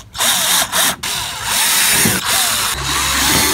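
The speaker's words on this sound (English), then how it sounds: "We're gonna be drilling straight through that." A loud power drill with a 3/16 inch bit whines steadily at close range, briefly cutting out twice before running on continuously as it bores through material for a Mazda Miata cupholder install.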